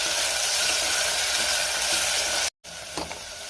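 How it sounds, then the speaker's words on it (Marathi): Finely chopped onion and curry leaves sautéing in a pan while cooking a white pea curry: a loud, dense, continuous sizzle, briefly cut off, then resuming more softly with a stir. "त्यातच बारीक चिरलेला कांदा घालायचा आहे, कढीपत्ता घालूया आणि कांदा आपल्याला 2 ते 3 मिनिटं चांगला परतून घ्यायचा आहे।"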